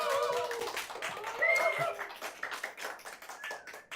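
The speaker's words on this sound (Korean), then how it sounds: "지금 제가 바로 부를 때 우레와 같은 박수 부탁드릴게요" An audience at a Korean talk event claps to welcome a photographer to the stage, a moderate burst of hand claps mixed with cheering voices that gradually thins out.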